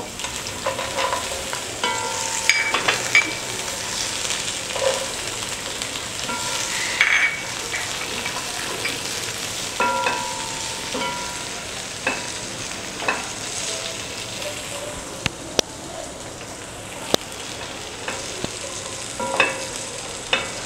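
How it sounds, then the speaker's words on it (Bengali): Sheer khurma ingredients, including almonds and pistachios, fry in ghee on low heat, giving a steady soft sizzle with occasional stirring clicks and scrapes throughout, close and with no talk. "চুলার আঁচটাকে একদম কমিয়ে রেখে এগুলোকে আমি ভেজে নিব"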